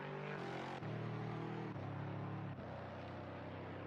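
GT3 race car at Brands Hatch in a racing video game, engine droning loud and steady with several quick upshifts marked by abrupt pitch drops in succession.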